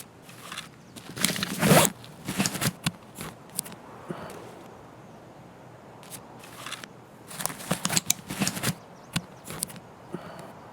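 A medkit is opened while healing in the game Escape from Tarkov, giving repeated close zipper rasps and clip sounds. The sounds come in short clustered bursts over quiet background shuffling.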